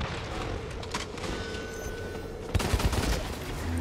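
Single-shot gun firing in the video game Blacklight: Retribution, a few sharp close reports near the end over a steady game background noise.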